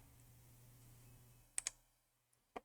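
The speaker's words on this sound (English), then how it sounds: "We'll click Save." Two quick sharp mouse clicks on a computer in a quiet office setting, pressing a Save button, followed by a third faint click and one more distinct click, over a low steady background hum.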